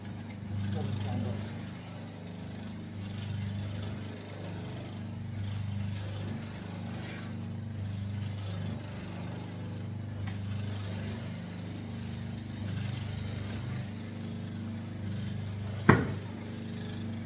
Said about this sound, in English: So now you should have a fully operational bobbin sander.